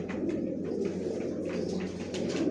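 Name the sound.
racing pigeons cooing in a loft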